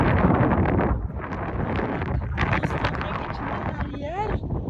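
Steady wind buffeting a microphone outdoors on the way to Masada, a loud continuous rumble with someone talking over it throughout.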